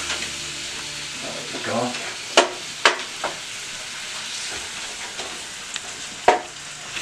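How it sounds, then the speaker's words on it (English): Meat cooking in a pan for spaghetti sauce, a steady soft sizzle with a few sharp utensil scrapes and clicks on top, close by, and a brief spoken remark near the end. "Watch this beautiful meat cook."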